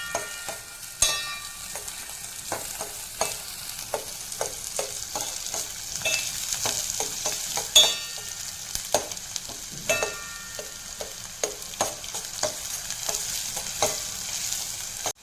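Onion stir-fries in a pan for a Malvani-style egg masala, a soft continuous sizzle punctuated by frequent sharp scrapes and clicks of a spatula stirring at an uneven rhythm.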